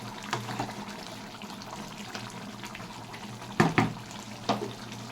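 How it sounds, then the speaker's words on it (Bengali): Water pours into a pot of goat head curry being sautéed, a soft running trickle under a low kitchen hum with a few brief louder splashes near the end. "এখন একটু জল দিয়ে কষাচ্ছি।"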